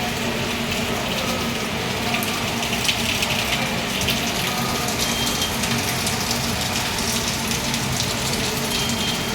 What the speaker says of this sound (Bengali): বৃষ্টিটা দেখো হয়েই চলেছে